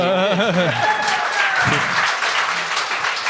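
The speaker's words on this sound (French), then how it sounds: "applaudissez le plus fort que ça" A studio audience at a French-language TV talent show breaks into applause as a voice speaks over the start, the clapping swelling and holding steady through the rest.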